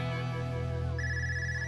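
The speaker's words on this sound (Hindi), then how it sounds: "कंपनी के मालिक का फोन है।" A telephone starts ringing partway through with a steady electronic tone, sounding over a sustained musical background.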